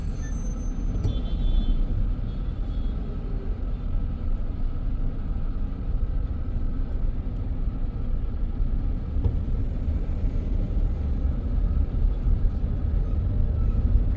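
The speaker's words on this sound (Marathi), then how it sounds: "पूर्ण ट्रॅफिक झालेलं आहे" Heavy traffic jam on the Samruddhi Mahamarg highway near roadworks, a steady, dense rumble of cars and trucks with an occasional air-brake hiss, continuous and close throughout.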